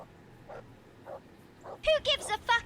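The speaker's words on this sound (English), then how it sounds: "There's the good doggy." A dog in the video game Kingdom Come Deliverance, a few soft, spaced woofs followed by a quick run of louder, sharper barks close by.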